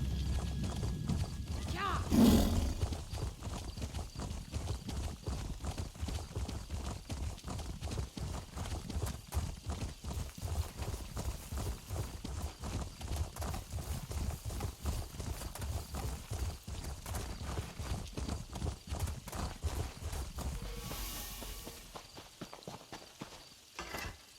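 Horse hooves clip-clop steadily at a brisk, even gait in The Elder Scrolls Online, the ride running close and continuous for over twenty seconds with a soft game backdrop.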